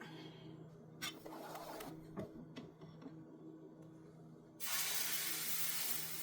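Barley, millet and urad dal dosa batter poured onto a hot griddle: soft kitchen clatter, then a sudden loud, steady sizzling hiss that fills the last couple of seconds.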